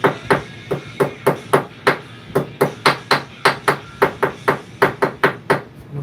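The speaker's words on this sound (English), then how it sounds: "This is a little 12-ounce baby hammer." A 12-ounce hammer strikes sheet metal in a steady run of about twenty sharp, ringing blows, close and loud, evenly paced with brief gaps.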